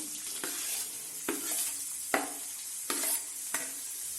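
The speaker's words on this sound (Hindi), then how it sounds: "अब इसी तेल में यानी मतलब घी में और बटर में हम ये प्याज डाल देंगे।" Onions frying in a mix of ghee and butter for paneer butter masala, a quiet steady sizzle broken by several sharp scrapes and stirs of a spoon against the pan, close and with no voices.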